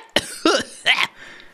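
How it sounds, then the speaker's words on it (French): Three quick harsh coughs in a row, close to the microphone, followed by a brief quiet tail. "je tousse déjà IRL, donc impeccable."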